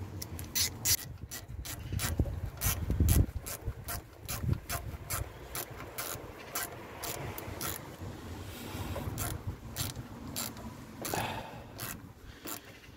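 Ratchet tightening a high-quality Ford Jubilee hose clip with a 6 mm socket on a car, rapid close clicking pawl strokes in repeated bursts, loud and without talk.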